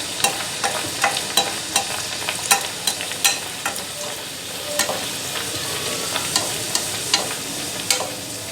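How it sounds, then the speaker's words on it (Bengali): Chicken keema puris deep-fry in oil with a close, steady sizzle. Quick crackling pops and spatters burst out irregularly throughout, with no voices. "এইভাবে আমি সব পুরিগুলো ভেজে নেব।"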